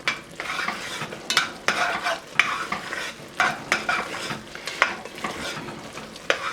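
Spoon stirring all-purpose flour into mushroom soup in a pot, scraping and clinking in irregular strokes over a soft sizzle, close and fairly loud with no voices.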